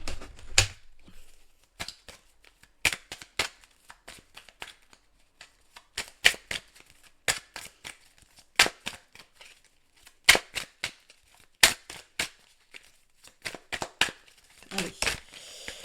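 Tarot cards are shuffled and cut in a series of crisp, close riffling snaps and slaps, coming in irregular bursts with short pauses between them.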